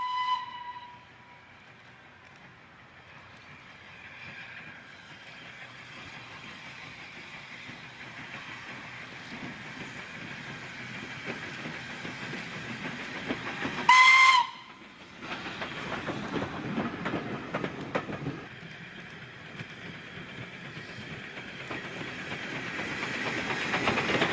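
A heritage steam train runs on the Great Central Railway with a steady rumble and rolling clatter of wagons, broken midway by one sharp, loud blast of its steam whistle before the running noise swells back.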